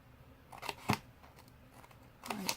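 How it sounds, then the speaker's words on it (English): Scissors snip through the score lines of a cardboard box, a few sharp close cuts spaced apart with quiet pauses between them. "we're going to take some scissors"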